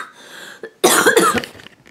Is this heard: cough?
yes